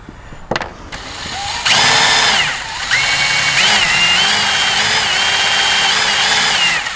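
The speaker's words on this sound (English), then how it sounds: "So I drilled through a little ways" A power drill bores a hole through the gel coat of a Sea-Doo fender, with a brief start then a steady, loud high-pitched whine lasting several seconds with slight pitch wavers as pressure changes.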